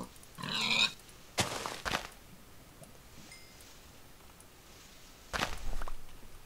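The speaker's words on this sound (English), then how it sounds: "I hear another pig." A pig in Minecraft gives short grunts amid soft footsteps, a few brief bursts of blocky game noise against a quiet background.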